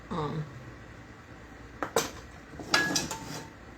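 Potatoes being chopped inside a pot, giving a few sharp metallic clinks and knocks of utensil against cookware, separated by quieter pauses, with faint voice at the start.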